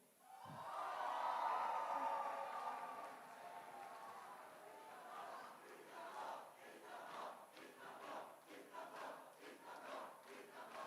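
Large crowd at a youth conference closing ceremony in Seville roars and cheers for Istanbul, a loud swelling shout that settles into sustained cheering with whoops and rhythmic chanting, distant and reverberant.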